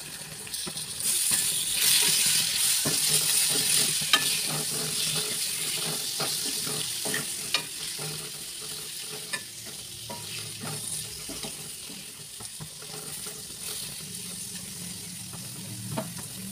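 Prawns fry in a pan with Malvani masala, cooking for a prawn curry: a steady close sizzle runs throughout, broken by occasional clinks and scrapes of stirring, with no voices.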